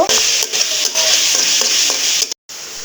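Dried fish (shutki) frying in a pan with oil, loud close sizzling and repeated stirring scrapes over a few seconds, cutting off briefly near the end.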